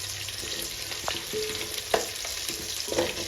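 Onions and dried red chillies fry in oil for pulao, a steady close sizzle punctuated by occasional spoon scrapes and stirring clinks, with no talk.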